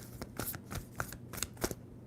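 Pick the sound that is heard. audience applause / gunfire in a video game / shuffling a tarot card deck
shuffling a tarot card deck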